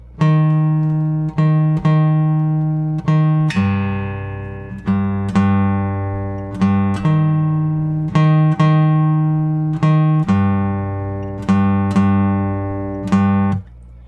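Low guitar notes are plucked in a repeating bass riff from the Stranger Things theme with a syncopated rhythm, ringing clearly and close with no voices.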